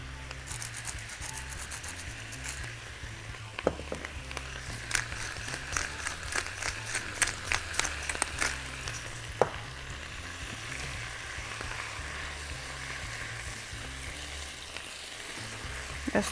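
Shrimp pasta sizzles steadily in a hot pan while being stirred, with a constant frying hiss, scattered clicks and scrapes of the utensil, and a low rhythmic hum underneath.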